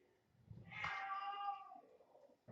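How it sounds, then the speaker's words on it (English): A kitten lets out one drawn-out, fairly loud meow lasting about a second, rising and then trailing off, with a quieter stretch afterward and a brief knock at the very end. "I just got this cat. Okay, kitten."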